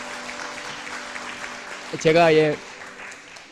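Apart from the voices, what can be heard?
church congregation applauding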